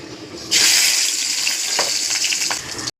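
Spices dropped into hot oil for tempering hiss into a loud, steady sizzle that starts abruptly and stays bright and close, with a few clatters of stirring, before cutting off at the end.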